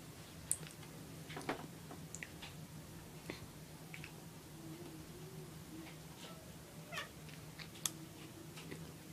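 A cat chasing a laser dot gives several short, fairly faint meows spread across the stretch, along with light ticking and tapping sounds in a quiet room.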